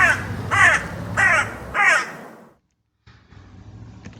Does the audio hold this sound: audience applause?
no